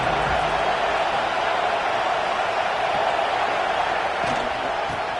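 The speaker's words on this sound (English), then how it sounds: "this crowd is getting behind this defense" A stadium crowd roars during a college football game against Texas A&M on a big third down in the red zone, a loud, sustained, even wall of cheering noise.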